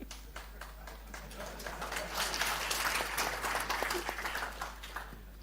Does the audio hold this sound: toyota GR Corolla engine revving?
no